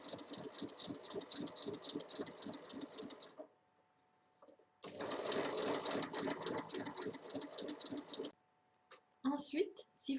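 A sewing machine stitches a bag's fabric along its full length a centimetre from the edge, running in two steady buzzing bursts with a pause between, followed by brief handling clicks.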